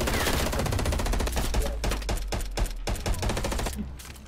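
Rapid, dense gunfire from the Call of Duty: Black Ops Cold War video game: continuous automatic bursts with sharp shots that stay loud and close for the whole stretch.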